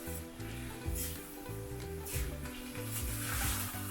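Minced meat sizzles steadily in a hot pan, with the scrape and clatter of stirring repeating throughout over a continuous frying hiss, close and fairly loud with no talk.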